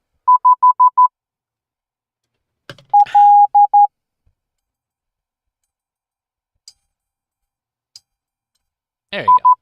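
Morse code tones keyed on a WiFi Morse code kit: short bursts of clean, steady beeps, a quick run of dits, then a longer mixed group, with faint clicks and brief noise between.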